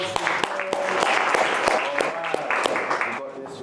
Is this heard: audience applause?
yes